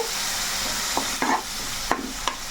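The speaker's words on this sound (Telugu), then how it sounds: "ఈ మసాలా పేస్ట్ కూడా మనకి చక్కగా వేగాలండి" Masala paste for egg curry frying in a pan, a steady hiss of oil broken by four or five distinct scraping stirs of a spatula against the pan.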